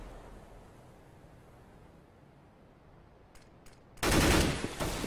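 Gunfire in a Counter-Strike match erupts after a quiet stretch, with a couple of short sharp shots followed by a loud sustained burst of rapid firing that tapers off.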